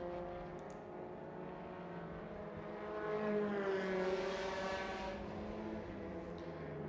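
A Van Diemen open-wheel race car in green, white and red sweeps through the S-bend section at the track during free practice, its engine note swelling as it passes near mid-clip and then fading, steady and unbroken.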